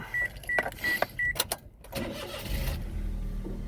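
A Daihatsu Jumbo Cab automatic Japanese mini truck is started up: a few short warning chimes, then the starter cranks briefly and the small engine catches and settles into a steady, close idle.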